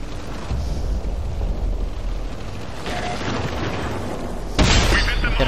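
A T-54 tank's D-10T2C cannon fires in a tank video game, one sharp, heavy boom near the end that stands out over a steady rumble of engine and wind.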